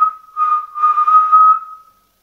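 A single clear human whistle, one steady pitched tone with a brief break, lasting about two seconds, close and fairly loud with no talk.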